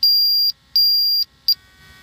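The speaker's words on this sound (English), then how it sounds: "It'll beep at you." A handheld gas meter entering calibration mode gives three clear electronic beeps: two long steady tones about half a second each, then a short blip, with a quiet room behind.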